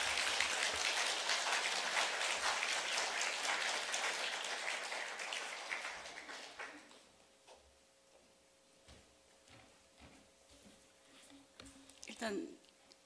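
Church congregation applauding to welcome a guest speaker at a Wednesday service, a dense burst of clapping for several seconds that fades out, followed by quieter room sounds and a brief voice.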